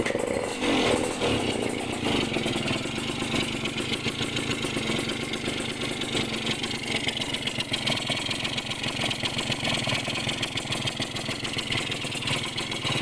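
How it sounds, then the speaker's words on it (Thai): A motorcycle engine, a bike with a hard-starting fault, a rough stumbling run and an aftermarket exhaust, catches and settles into a loud, steady, close idle with a rapid pulsing exhaust note throughout. "ติดเครื่องดูกันนะครับว่า อาการจะ เป็นยังไงนะครับสำหรับคันนี้"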